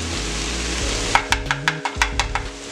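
Spices stirred into translucent frying onions in a pan: a steady sizzle runs throughout, then a quick series of about eight sharp scraping taps from the utensil against the pan in the second half.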